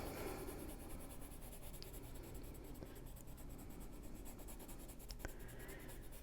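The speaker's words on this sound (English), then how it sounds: "You will see me use the side of the lead of the pencil instead of the tip." A Chromaflow colored pencil shades with the side of its lead, giving a soft, continuous scratchy rasp across paper, close and quiet, with no pauses.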